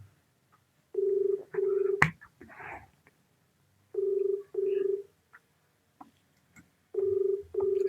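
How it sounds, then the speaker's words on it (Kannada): A phone call rings out through a handset in repeated double-burst ring tones, three pairs spaced evenly and fairly clear, with a sharp click and brief rustle between the first and second pairs. "ರಿಂಗ್ ಆಗ್ತೈತೆ ಕಾಲ್."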